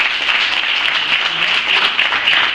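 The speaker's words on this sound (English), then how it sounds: "round of applause for" A crowd applauds with steady, dense clapping that stays loud and even throughout.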